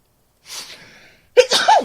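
A single sharp sneeze, preceded by a soft breathy intake, sounds close and loud in an otherwise quiet room.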